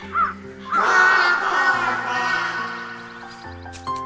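Single crow giving a loud, drawn-out harsh caw near the microphone, preceded by a brief softer call, then a short click at the end.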